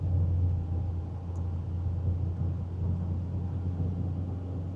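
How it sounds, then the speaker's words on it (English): Pickup truck rolling along a plowed, snowy road in the cold, a steady low engine and tire rumble holding constant from inside the cab, with no talking. "The truck's working really good."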